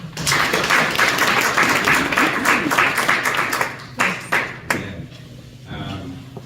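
Audience clapping at a theological seminary end-of-semester party, a lively patter for about four seconds that thins into a few scattered claps and fades, with voices in the room underneath.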